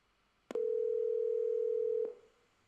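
A call placed from an Apple Watch Series 3 over cellular, heard as a single steady ringback tone lasting about a second and a half, clear and alone, ending with a faint click.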